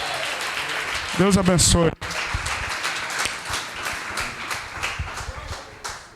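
Church congregation applauding loudly during an evening service. Clapping starts under a short spoken blessing, breaks off briefly, then resumes as a dense, steady round of applause.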